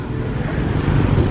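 Busy street traffic in Hanoi, Vietnam, makes a brief, loud, steady wash of engines and road noise close by.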